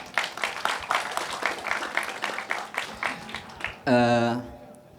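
Audience applause at a talk, a dense patter of many hands clapping for several seconds before a voice cuts in near the end.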